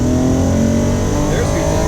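A modified Acura NSX engine revving hard as VTEC engages, a loud continuous close engine note that climbs in pitch under a brief voice.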